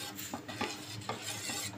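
A spoon stirs pesara kattu, a moong dal dish, in a pan. Soft, irregular scraping strokes sound close by over a faint simmer, with no voices.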